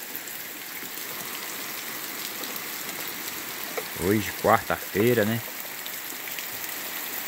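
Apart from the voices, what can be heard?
rain falling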